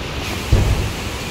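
Strong typhoon wind roaring as a dense, loud, continuous rush, with one brief heavier gust buffeting close by.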